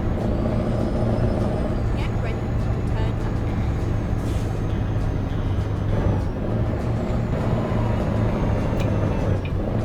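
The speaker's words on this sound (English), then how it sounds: "Engine brake sounds kind of nice." A Volvo truck's engine brake in American Truck Simulator gives a deep, steady, throbbing drone that continues unbroken, with someone talking over it.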